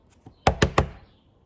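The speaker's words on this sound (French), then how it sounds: "Il frappe à la porte." Three quick, evenly spaced knocks on a door, close and crisp, with silence before and after.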